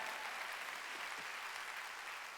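Church congregation clapping together during a Sunday worship service, a dense, steady wash of applause filling the whole stretch without pause.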